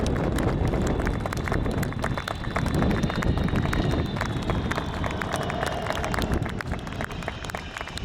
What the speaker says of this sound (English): I'd like you to give a very, very big round of applause to the Avro Vulcan